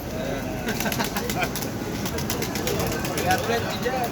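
Pigeons at the Halkalı pigeon market coo and flutter in a busy outdoor setting, heard under steady crowd chatter and people talking nearby.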